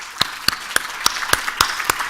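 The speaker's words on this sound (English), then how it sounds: "I think they deserve a huge round of applause" A few spaced, sharp claps ring out at a graduation ceremony, roughly one every quarter second, moderately loud and close, in a sparse rhythm rather than a full crowd's applause.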